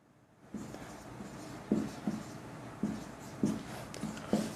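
Pen writing a note by hand on paper, with a series of short scratching strokes repeating in a steady rhythm, close and fairly quiet, with no talking.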